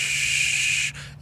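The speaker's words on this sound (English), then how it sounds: "Hear that whistle? That's your new fucking ice maker that you spent thousands of dollars in your" A new ice maker gives off a steady, fairly loud high-pitched whistling hiss for about a second, then cuts off abruptly, leaving only faint noise.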